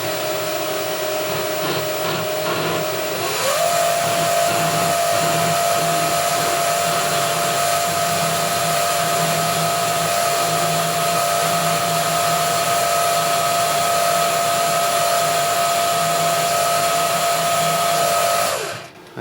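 Carbide bit boring a hole through a metal part for a pull gear speed reducer, a steady loud machine whine with a constant tone that holds for the whole stretch before cutting off abruptly.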